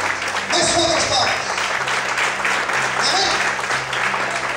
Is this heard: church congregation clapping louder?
yes